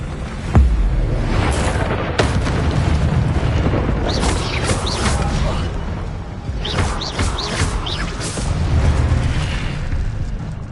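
A fire spell cast in the fantasy game Hogwarts Legacy, heard as a sudden loud burst of whooshing flame that keeps roaring and crackling steadily, with brief magical chimes flickering through it.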